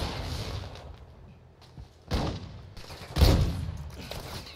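Sniper shots in the video game DMZ, two sharp cracks about a second apart, the second louder, over quiet game ambience.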